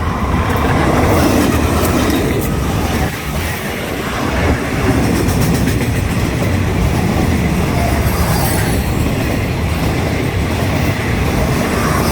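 Diesel locomotive GEA 4536 hauls train 560 past at close range: a loud, continuous rumble of rolling wagons with steady clickety-clack from the wheels and faint squealing, sustained throughout.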